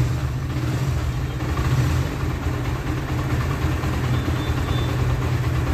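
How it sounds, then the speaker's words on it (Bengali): A second-hand Bajaj Pulsar motorcycle sits idling nearby, its engine giving an even, low, continuous hum with faint vibration and no other sounds. "বাইকের সাউন্ড কেমন রয়েছে এবার আমি সেটা দেখাবো।"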